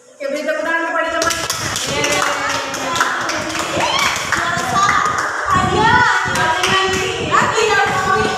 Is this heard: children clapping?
yes